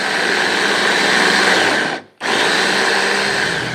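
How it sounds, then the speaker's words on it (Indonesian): Electric food chopper grinding cooked chicken meat, a loud steady motor whir running continuously with one brief stop near the middle before restarting. "Lalu haluskan dengan chopper."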